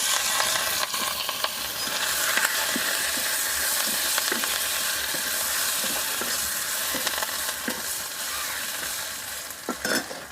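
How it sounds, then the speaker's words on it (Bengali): Fresh young neem leaves fry in hot oil, giving a steady, dense sizzle for the whole stretch, with occasional stirring clicks and a few sharper pops near the end; no one talks. "এবার আমি নিম পাতাটা ভেজে নেব"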